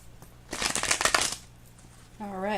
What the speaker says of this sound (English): going to shuffle these cards